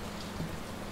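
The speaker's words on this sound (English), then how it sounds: "Will this storm ever run out of rain?" Steady storm rain in the Layers of Fear video game, a constant even hiss of rainfall filling the background with no other sounds.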